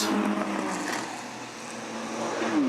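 BMW E30 and open-class race cars roar past on the Pukekohe circuit during a race, a loud continuous engine sweep that dips and swells again as the field streams by, heard fairly close.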